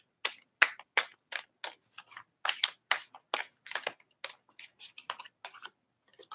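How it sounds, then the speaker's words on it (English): Moonology oracle cards are shuffled in a steady run of quick, crisp riffling slaps and flutters, close and loud, each burst short and separated by brief pauses. "Let's give it another good shuffle"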